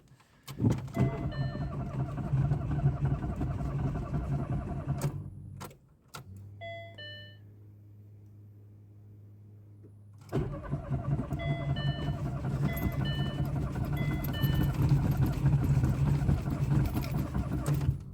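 A VAZ Zhiguli with a carburetor engine runs loud and close, stalls into a quieter interval of chimes and hum, then cranks and fires up again into a steady idle, with people talking over it.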